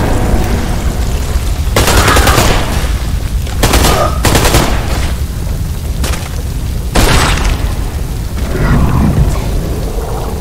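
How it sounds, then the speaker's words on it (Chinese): Gunfire in the PC game Beyond Two Souls: several loud, close bursts of shots and booms separated by short pauses over a dense, noisy game soundscape. "佢同 Jody 一样，我啲鬼可以控制啲人咧，去到开枪爆自己"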